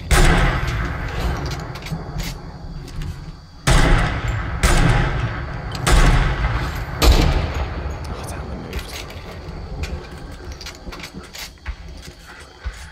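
Gunfire in the video game Fortnite, shots coming from enemies down a hill: bursts of loud shots and booms at irregular intervals, with heavier blasts around the middle, over continuous game background noise.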